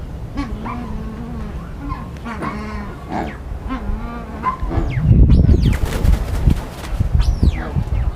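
An agitated duck among exotic birds gives repeated nasal, honking calls up close, followed by a burst of rough rustling and flapping noise mixed with further sharp calls.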